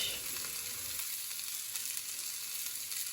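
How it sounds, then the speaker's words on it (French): Curry spices toasting in a pan over low heat give a soft, even sizzle that holds steady from start to finish, with light stirring and no voices. "Et je vais torréfier mes épices"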